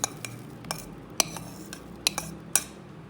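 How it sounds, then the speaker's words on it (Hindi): Boiled peas being added to a Russian salad bowl, a handful of small scattered clinks and taps of a spoon against the bowl over a quiet background, some crisp and close. "अभी इसमें मैं डालूँगी ये मटर, इनको मैंने उबाल लिया था"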